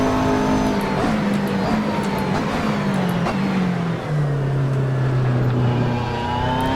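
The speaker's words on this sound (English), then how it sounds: "The V8 engine, I can hear it as well as see it" A Mercedes-Benz V8 engine in the Assetto Corsa racing game drones steadily and loudly throughout, its pitch sliding gradually lower as the car runs on, with no talk over it.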